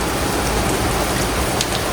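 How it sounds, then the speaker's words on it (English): Heavy rain pours outside at night during a thunderstorm, a dense, loud, unbroken hiss of drops hitting the ground with no pauses. "it is raining really hard out there"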